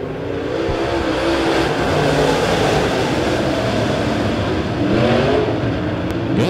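Late model race cars roar off at the start of a B-main feature at Springfield Raceway, a dense, loud, continuous engine roar with rising revs as the pack accelerates together.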